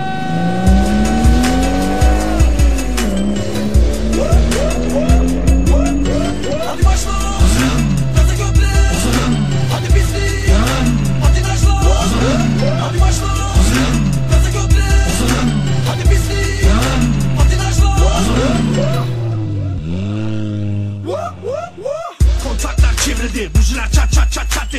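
A race car engine revs hard again and again, each rising whine climbing and dropping in a regular, loud, close pattern, followed by a brief drop-off and a final burst.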